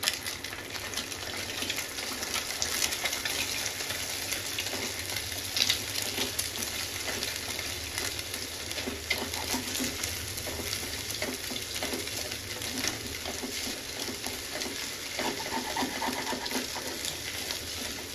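Egg fries in a hot oiled pan for egg fried rice while being stirred, a steady close hiss with scraping and soft clatter running throughout, no voices.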